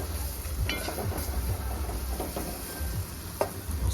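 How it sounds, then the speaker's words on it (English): Lobster fries in curry in a pot at a riverside family-night cookout by a Jamaican chef, giving a steady close sizzle with scattered small pops and crackles over a low rumbling background. "make them fry up in the curry"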